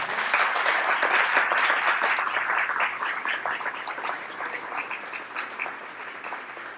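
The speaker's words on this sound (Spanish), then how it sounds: "Bueno, yo pido un fuerte aplauso para" Warm applause from the audience at a photography gallery talk in Peru, a dense, even patter of many hands that holds steady and fades slightly toward the end, with no talking over it.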